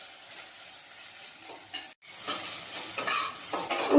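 Bitter gourd sizzles in a hot pan while a spatula scrapes and stirs it in close, repeated strokes. The frying hiss briefly drops out midway.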